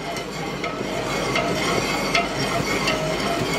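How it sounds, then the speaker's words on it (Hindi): Kadhi stirred continuously in a pot over heat, a steady close scraping and bubbling wash with faint regular ladle strokes against the metal, no voices. "जब तक उफान नहीं आएगा तब तक इसे चलाते रहो, रुकना नहीं है बिल्कुल भी"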